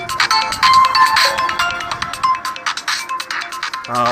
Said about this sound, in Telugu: ఈ టైంలో ఎవడరా ఫోన్ చేసింది?